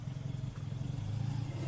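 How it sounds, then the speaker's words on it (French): The small engine of a 1960s limousine idles just after ignition, a quiet, steady low rumble with a gentle pulsing rhythm, heard close and alone. "Le moteur est très silencieux."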